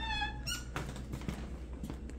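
An interior door in a kitchen of a second-floor apartment creaks open with a short high squeak, followed by a few soft thumps and rattles of the door moving, close by with no talking.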